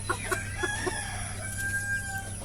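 Chickens on a farm giving a few short rhythmic clucks up close, then quieter fowl calls over a steady background hum.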